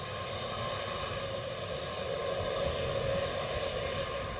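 A Lufthansa airliner moves at Edinburgh Airport, giving a steady, distant engine drone that stays faint and even throughout without talk.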